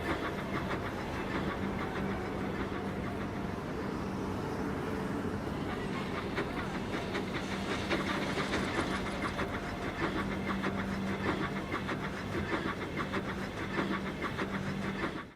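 Toy-style engine Thomas running along rails, a steady rolling rumble with a faint rhythmic clatter and a low hum throughout, fairly close and continuous with no talk.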